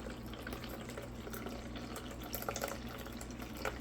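Water trickles and splashes steadily as it drains out through the opened drain plug of a countertop nugget ice maker, a continuous close, moderate pouring with a few brief louder spatters.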